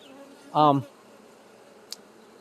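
A honeybee at a beehive gives one short, close buzz lasting under half a second, followed by quiet background hum and a faint tick.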